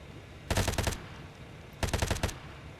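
Two short bursts of automatic fire from a Lockman SMG (MP5) in modded Ark Survival Ascended, each a rapid loud rattle of about half a second, separated by a pause.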